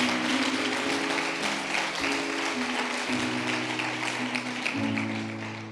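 A church congregation claps along in steady praise, a continuous loud patter of many hands over sustained keyboard or organ chords, with no clear talk.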